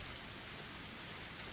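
Rain falling in a video game scene, a dense, even hiss of drops pattering steadily on surfaces, soft and close, with no pauses or other sounds.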